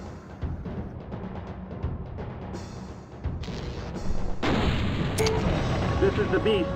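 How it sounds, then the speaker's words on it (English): Mechs in the MechCommander video game firing weapons, including the Beast, a mech with a medium range weapon: loud booming blasts and rapid gunfire bursts that build into a dense, continuous barrage with explosions, under faint talk. "This is the Beast firing."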